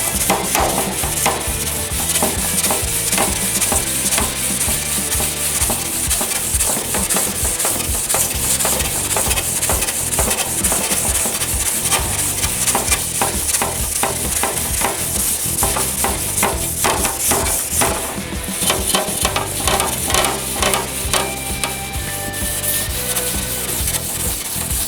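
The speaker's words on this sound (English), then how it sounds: "I'm going to scuff it with a Scotch-Brite" Dense, continuous abrasive rubbing as a Scotch-Brite pad scuffs a sheet-metal chief skull in one direction, steady and close with rapid back-and-forth strokes and no talk.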